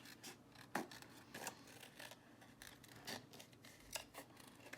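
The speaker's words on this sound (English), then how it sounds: "I think I'm gonna fussy cut him out" Scissors fussy cutting an image out of paper, a close, quiet series of irregular snips and rustling paper scrapes with no talking.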